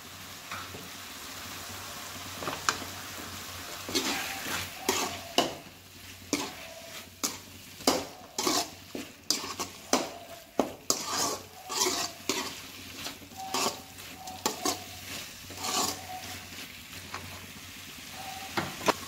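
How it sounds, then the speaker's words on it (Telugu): Chicken frying in a pan is stirred with turmeric, chilli powder, coriander powder and salt, giving steady sizzling under repeated scraping and clinking spoon strokes, close and fairly loud, with no talking. "కొంచెం పసుపు, కొంచెం మిరప్పొడి, కొంచెం ధనియాల పొడి, కొంచెం సాల్ట్ వేసుకొని కలుపుకోవాలి"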